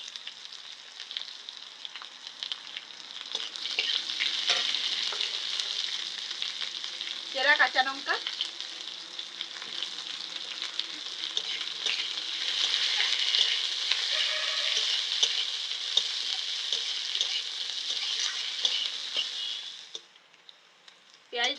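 Chopped onion hisses and sizzles in hot oil with browned garlic in a pan, a steady loud frying hiss over the whole stretch that stops abruptly near the end, with a voice briefly speaking partway through.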